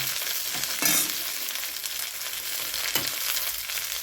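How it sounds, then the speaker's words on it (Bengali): Potatoes frying with browned onions in a pan, a constant close sizzle broken by two sharp stirring scrapes, with no voices. "পেঁয়াজটা লাল লাল করে ভাজা হয়ে গেছে এবার আমি আলুটা দিয়ে দিচ্ছি"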